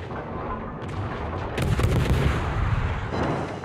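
Warship main battery artillery booming in World of Warships, heavy rumbling salvos with a loud volley midway that rolls on as a continuous roar of naval gunfire.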